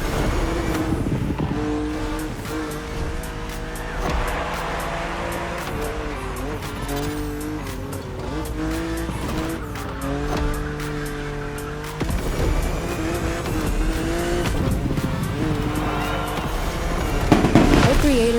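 A BMW car drives in The Crew Motorfest video game, its engine note rising and falling steadily at moderate volume, with tire squeal and skidding noises scattered throughout.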